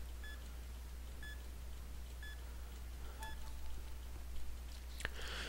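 Short, high electronic beeps from a fifth-generation Pokémon game repeat about once a second, four in a row, followed by a brief click and a sharp tap over a low hum.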